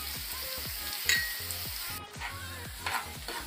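Chopped onions and green chilies being stirred in a sizzling pan, with steady frying hiss and a rhythm of soft spoon scrapes and occasional clinks against the metal, close up and without talk.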